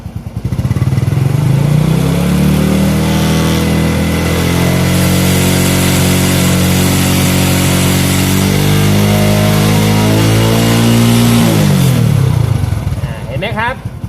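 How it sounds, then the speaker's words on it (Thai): A car engine is revved during a battery charging test, rising from idle into a long, loud, steady high-rpm drone held close to the microphone for several seconds before dropping back down. "ปิดเครื่องครับเร่งเครื่องครับ"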